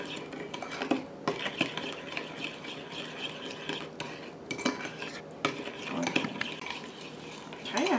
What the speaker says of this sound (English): it takes a minute or two to get this stirred up really well